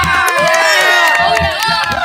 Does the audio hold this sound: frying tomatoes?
no